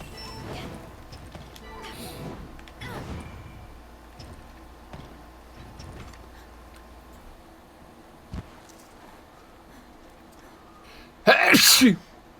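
One sharp, loud sneeze bursts out near the end after a long stretch of quiet room sound with faint scattered clicks.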